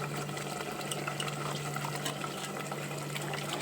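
Water pours steadily into a cooking pot while preparing a Telugu fish curry with okra and tamarind, a continuous close splashing fill with a low steady hum beneath, no talk.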